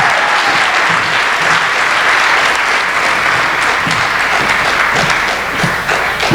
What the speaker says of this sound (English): could we all just give a round of applause for Mrs.